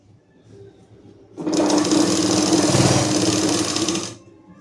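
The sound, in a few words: sewing machine stitching a pleat on a salwar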